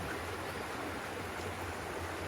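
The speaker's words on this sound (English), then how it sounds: "It is a lot bigger stream." Skull Creek flows steadily nearby, a broad even rush of water with no pauses and no one talking.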